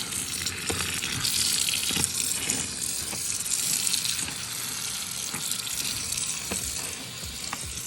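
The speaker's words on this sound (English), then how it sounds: "enjoy how satisfying it is when the dye runs out of the yarn." Running tap water rinses dye out of freshly dyed yarn in a sink, a loud steady gush and splash with occasional sharper drips and knocks, no voices.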